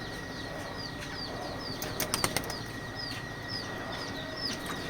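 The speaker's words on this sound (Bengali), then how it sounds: "মোল্লা পিজন লফটের 26-এর বেবি সব গোসল করতেছে" Young racing pigeons bathe, with bursts of wing flapping and splashing clustered in the middle and soft cooing and chirps around them in a quiet loft.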